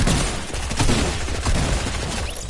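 Rapid, continuous SMG fire in a video game, a loud dense stream of shots with no breaks, up close and dominant.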